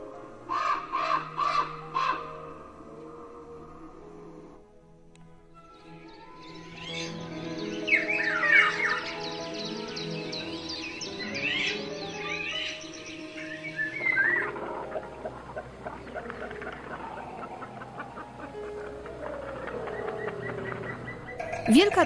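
Wild birds in riverside woodland along the unregulated Vistula, with crows cawing loudly near the start and varied calls and chirps following. Steady narration runs underneath for much of it.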